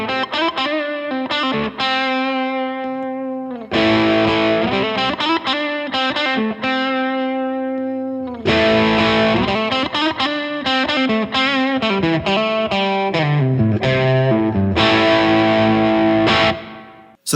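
Electric guitar through a Bluesbreaker overdrive pedal with the guitar volume rolled to halfway, giving sustained chords and melodic lines in a mildly driven, lightly gritty tone, played close and loud without any talking.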